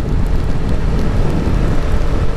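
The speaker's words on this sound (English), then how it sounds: "And a lot of water splashing because of these vehicles." Heavy broadband wash of wet-road spray as vehicles pass on a rain-soaked road, a steady loud rushing hiss with no gaps, heard close from a motorcycle tour.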